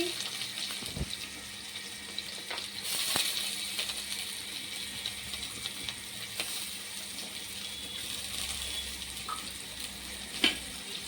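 Chopped onion frying in a pan for a thin rui fish curry with data stalks and potato: a faint, steady sizzle with a few soft clicks and knocks, no voices.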